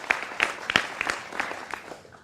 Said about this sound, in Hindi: जोरदार तालियों के साथ अभिनंदन करिए।